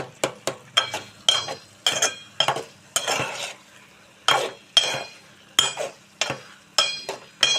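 A spoon clatters and scrapes repeatedly in a covered pan of okra and tomato curry cooking down, with uneven metallic knocks and soft sizzling between strokes.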